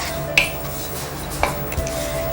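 Dried shrimp is dry-roasted in a pan, with a metal spoon scraping and clinking against it in a few sharp strokes over a low steady hiss.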